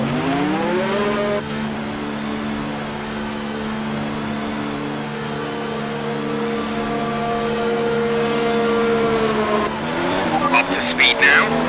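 Mercedes AMG F1 race car in a video game accelerating off the start at the Austrian Grand Prix, a loud high engine whine climbing steadily through the gears, then faint tyre squeal near the end.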